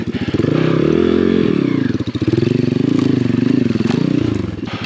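A Chinese pit bike labors along a hard enduro trail, its small engine loud and close with a steady buzzing drone that dips briefly and revs back up, with clattering and scraping over rough ground.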